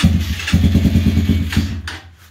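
A 125cc motorcycle without a kickstarter is started, its engine firing in a close, loud run of rapid pulses that falter and catch again before trailing off.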